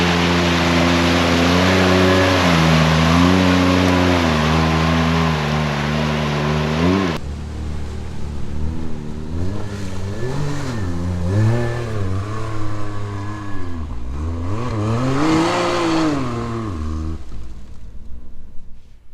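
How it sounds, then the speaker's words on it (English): A Can-Am X3 side-by-side drives through mud puddles with its engine revving loudly, the pitch rising and falling through repeated surges, along with a rough wash of splashing noise. "Getting to splash through the mud puddles is always fun"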